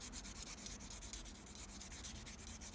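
A metal bracelet cuff is buffed with fine sandpaper, a soft continuous rubbing scratch in quick, even strokes heard close and quiet.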